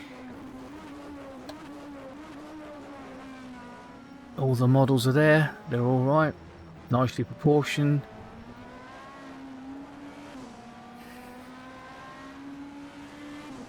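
A BTCC super touring race car engine in the rFactor 2 racing game holds a steady, droning tone throughout, with someone talking over it in the middle stretch.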